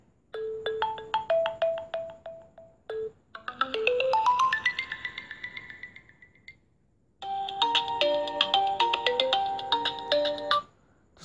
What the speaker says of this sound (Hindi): तो कुछ रिंग टोन्स यहाँ से चला के देखते हैं कैसी क्वालिटी रहती है यहाँ पे स्पीकर की